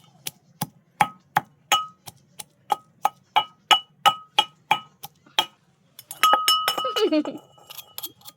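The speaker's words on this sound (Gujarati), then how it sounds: "હવે આપણે તુવેરના દાણા છે એ થોડાક આપણે ખાંડવાના છે" Pigeon pea grains being pounded: about fifteen sharp, ringing strikes at an even pace, fairly close, followed by a brief stretch of a voice talking over scattered clinks at the end.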